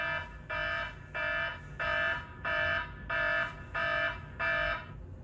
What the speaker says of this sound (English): that's the danger alarm